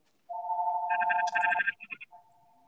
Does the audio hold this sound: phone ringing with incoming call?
yes